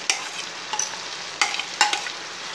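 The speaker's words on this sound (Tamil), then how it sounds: "சப்பாத்தியை போட்டு கிண்டிக்கிட்டே இருக்கும்." Chapathi pieces stirred and fried in a spicy gravy for chilli chapathi, with a soft background sizzle and four spaced spatula scrapes against the pan.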